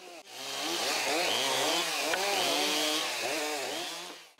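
A chainsaw cuts timber at a lumberjack competition in the Navlinsky forestry area of Bryansk region, whining steadily and loudly up close through one continuous cut.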